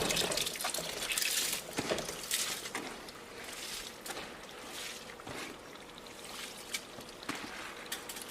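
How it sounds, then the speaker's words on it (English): Washed rice is poured into a pot for Nigerian party jollof rice, giving wet sloshing and trickling water with soft splashes and drips, close and moderately quiet, in irregular bursts. "So now adding the washed rice"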